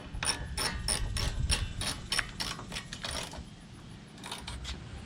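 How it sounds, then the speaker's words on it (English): A ratchet tightens Allen head bolts on a Ford Bronco WildTrak tailgate, giving a quick run of rapid clicks followed by a shorter second burst. It is close but fairly quiet. "And then tighten it with the ratchet."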